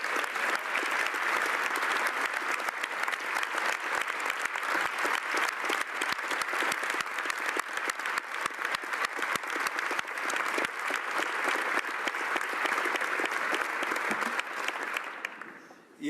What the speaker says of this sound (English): I think she deserves your applause